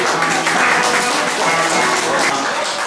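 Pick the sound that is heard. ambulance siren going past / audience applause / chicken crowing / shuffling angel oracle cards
audience applause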